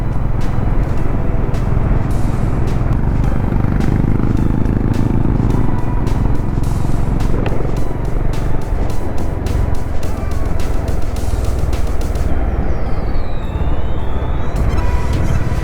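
Several Honda Big Wing motorcycles cruise in a group at around 60 to 80 on a monsoon ride, their engines a loud, continuous roar and rumble with strong wind buffeting, and no voices.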